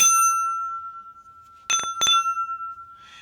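Heavy rose-tinted metal lids that look like aluminum ring out like a bell: a sustained pure tone hangs from the start, then two sharp metallic strikes close together set off bright, ringing clanks that slowly decay.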